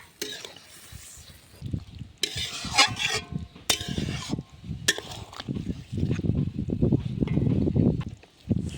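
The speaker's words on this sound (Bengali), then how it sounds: "তরকারিটা ফুটে উঠেছে" Chicken kosha curry bubbles in a pot in a Bengali kitchen, with loud spoon scrapes and clanks against the metal cutting through a continuous frying hiss and bubbling.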